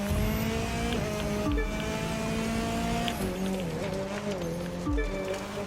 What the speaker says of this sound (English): Love that sweet engine.